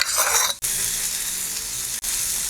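Poha uttapam sizzling in oil on a hot pan, a loud continuous hiss that flares briefly at the start, with two short breaks, no voices.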